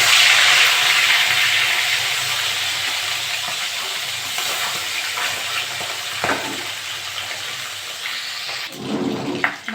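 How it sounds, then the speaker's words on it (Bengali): Pangas fish fry in hot mustard oil in a pan, giving a loud continuous sizzling hiss that slowly eases, with a few sharp spatters and a clatter near the end. "মাছগুলো ভেজে নেব"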